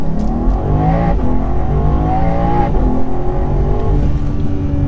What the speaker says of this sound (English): Preparing launch control active, let's go!